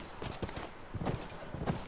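Horse hooves clip-clop in The Last of Us video game, a steady run of irregular, moderately close hoof strikes over nearly two seconds with no voices.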